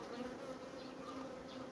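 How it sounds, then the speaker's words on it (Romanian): Honey bees crowd densely in a strong colony hive, a faint, steady buzzing drone that holds without a break, heard alone. "ce înghesuială de albine o să fie aici"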